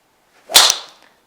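A single sharp, loud whoosh-crack of a 2025 Wilson driver striking a golf ball, quickly fading, with silence around it.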